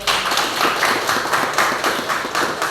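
A school class clapping their hands in a classroom, a steady run of loud, rhythmic clapping bursts with no talk.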